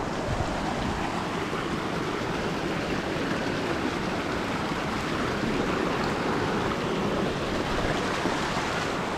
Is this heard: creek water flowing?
yes